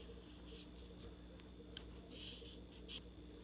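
Scissors cut through the middle of tied yarn bundled for mini doll ear muffs, making a few soft, close snips and crisp clicks over a quiet background hiss, with no talking.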